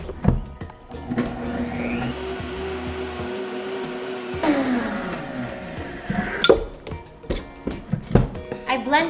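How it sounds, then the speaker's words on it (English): A countertop blender whirs as it purees soaked cashews for homemade cashew milk, a steady motor drone with shifting pitch that cuts out midway, then scattered clatter and thumps of handling. "I blended that in total for about a minute, I think, but ideally you should blend it a little longer."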